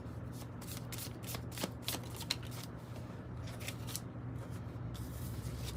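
A deck of cards is shuffled close by, with rapid riffling bursts and quick flicks repeating across the whole stretch over a steady low background hum, and no one speaking.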